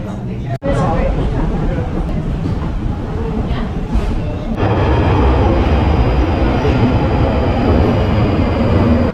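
Loud, steady rumble of a train running on rails, with a sharp clack early on and the roar swelling slightly partway through; no talking.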